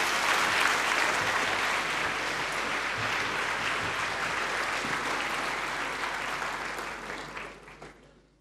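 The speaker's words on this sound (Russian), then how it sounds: "Дайте аплодисменты этим благословенным людям." A church congregation applauds in a dense, sustained wash of clapping that holds steady and then fades out near the end.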